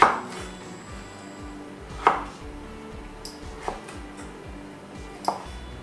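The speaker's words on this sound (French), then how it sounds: "Ici on va faire nos cubes de courge, on enlève la peau qui ne se mange pas." A knife chops squash into cubes on a cutting board, with a few distinct sharp knocks spaced irregularly over soft scraping and handling noise, close and clear.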